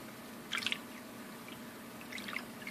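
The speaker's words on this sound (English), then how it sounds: "I think I'm going to fill it up with a little bit more water." Water poured into a cup holding borax gives two short bursts of dripping and splashing, faint and close against a low steady background hum.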